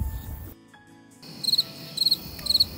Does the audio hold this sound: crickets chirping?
yes